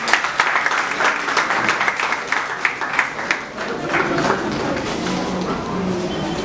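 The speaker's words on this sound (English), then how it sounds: "With a round of applause, please" Audience applause at a school entrepreneurship summit, with crisp individual claps that are distinct near the start and thicken into a steady, sustained round of clapping from a gathered crowd.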